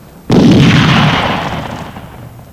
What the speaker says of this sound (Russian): Это в кого же стреляют?